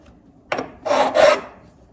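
A diamond fret crowning file rasps across guitar frets in three short scraping strokes, close and distinct against quiet, with the last two strokes longer and stronger.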